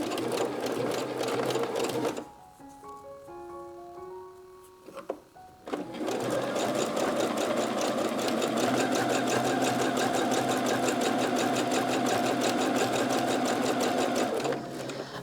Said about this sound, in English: then I will sew this all again